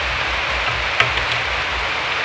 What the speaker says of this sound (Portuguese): E a chuva começou a cair.